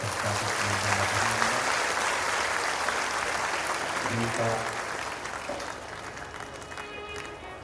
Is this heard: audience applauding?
yes